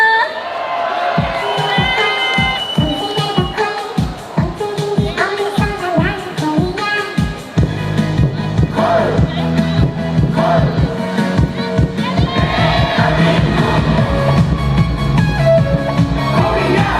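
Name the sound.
concert crowd cheering and applauding at beer festival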